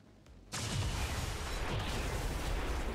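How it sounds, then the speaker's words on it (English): An explosion in the video game XCOM 2 comes in abruptly after a quiet half-second, then a loud, broadband roar and rumble sustains to the end without any voices. "Another nice little explosion."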